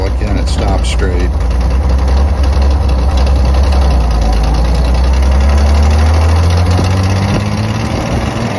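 A 1931 Chevrolet Independence five-window coupe's engine chugs loudly and close up while driving, changing pitch as it runs through the gears and accelerates, then settling back to a low idle near the end.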